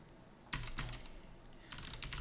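Keystrokes on a computer keyboard typing a Vault command in a terminal, a few quiet, close clicks in two small clusters over faint room hiss.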